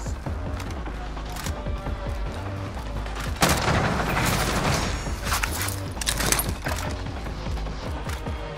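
Artillery bombardment in a battle royale video game, with heavy booms and cracks of gunfire pounding continuously in a dense, loud barrage.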